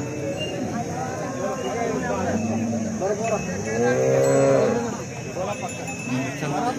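Cows at a cattle market, with a long, low moo swelling in the second half, other livestock calls and a faint cowbell beneath people talking close by through most of the scene.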